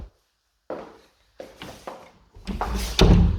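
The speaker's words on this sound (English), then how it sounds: "The door's clean, open and close is fine with no concerns, no issues." Interior door in a house being inspected is opened and closed several times in a row, each movement giving a close handle rattle and a dull knock, the final shut louder than the rest.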